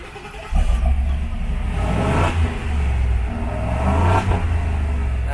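A stock truck engine revs close by, loud and throaty, rising and falling over several seconds with low rumbling.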